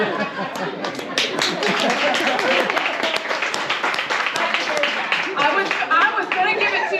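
Round of applause from a group, dense steady clapping mixed with cheers and chatter lasting throughout, fairly close and loud.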